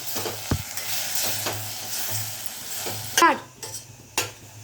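Mushroom curry frying over a low flame with a little dry coconut powder, producing a steady sizzle with spoon-against-pan scrapes and a couple of sharp metallic clinks near the end, close and fairly loud, no speech.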